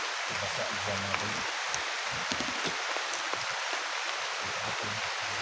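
Rain falls steadily outdoors as a dense, even hiss that runs the whole time, with low voices murmuring faintly underneath.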